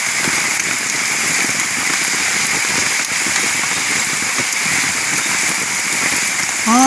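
Heavy rain pours steadily through a forest at night, a dense, even hiss of drops on leaves and ground without pause, with insects shrilling constantly behind it.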